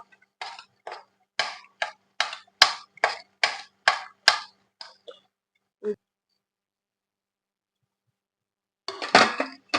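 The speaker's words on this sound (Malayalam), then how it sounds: "ഇതൊന്ന് നല്ലോണം ഇളക്കി കൊടുക്കട്ടോ." Kashmiri chili powder being stirred into chicken curry in a pan, a steady run of sharp spoon-on-pan scrapes and clinks, close and clear, then a pause and a final louder flurry of stirring.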